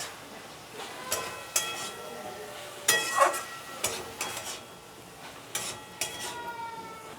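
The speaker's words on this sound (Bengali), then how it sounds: "বাঁধাকপি দিয়ে আমি নাড়িয়ে দিয়েছি" Boiled cabbage with soybean chunks and potato is stirred in a pan, a spoon scraping and clinking against the metal in irregular, fairly quiet strokes over a soft sizzle.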